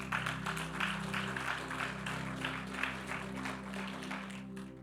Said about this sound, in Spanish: Eso merecía un aplauso.